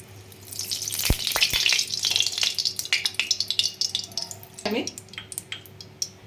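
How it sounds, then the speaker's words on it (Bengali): Taro pieces frying in mustard oil, a crackling sizzle broken by sharp clatters of a utensil against the pan and bursts of stirring, with a voice briefly heard. "কচুগুলোকে আগে ভেজে নেব"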